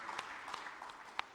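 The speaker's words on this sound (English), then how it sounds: "Let's give my panel a round of applause." An audience at an African investment forum applauds a panel, a brief, fairly faint patter of clapping with a few distinct sharper claps standing out.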